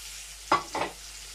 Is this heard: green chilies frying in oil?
yes